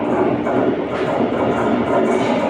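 The Kochuveli Express rolls through Mysore station with a steady, loud low rumble and rail clatter that stay at an even level across the short stretch.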